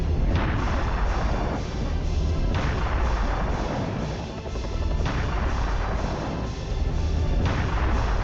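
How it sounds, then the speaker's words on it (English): Cannon blasts in the video game Serious Sam: The First Encounter, loud booming shots repeating every second or two over a dense, continuous roar of in-game action. "Start using the cannon again."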